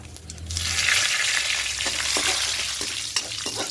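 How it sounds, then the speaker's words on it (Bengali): Bay leaves and whole spices hit hot oil with a sudden loud hiss that settles into a steady sizzle, with a few faint scrapes of stirring near the end. "আর দেবো দুটো তেজপাতা"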